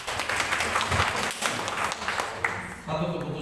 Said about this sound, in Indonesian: Tepuk tangan buat Cik Asi.